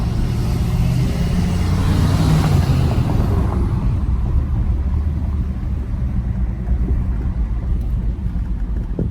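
A tuned 2017-2019 Ford F-250 pickup drives on tune setting 1, producing a loud, continuous engine and road roar that swells briefly early on, then holds steady without talk.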